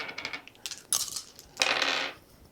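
Dice from a board game rattle and clatter close by, with quick hard clicks followed by a longer bright rolling burst as they tumble across the table and settle.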